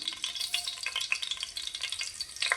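Cumin and mustard seeds crackle and sizzle in hot oil, a busy close frying hiss with rapid pops, alone without voices.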